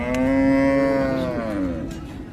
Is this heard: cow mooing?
yes